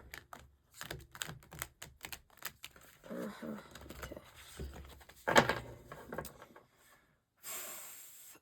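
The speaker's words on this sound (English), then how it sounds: "The chaotic shuffling." Tarot cards shuffled roughly and chaotically by hand, a rapid series of close, soft riffling and tapping bursts, with a brief spoken word midway and a hiss of card noise at the end.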